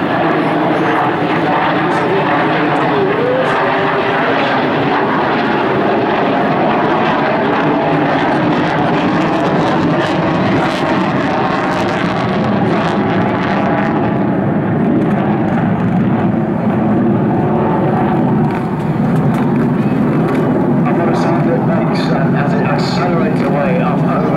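A loud, continuous propeller aircraft roar of a Royal Swedish Air Force Historic Flight plane dominates throughout, rising and shifting slightly as it passes low and slowly, rolling, over Jersey, with a voice faintly underneath.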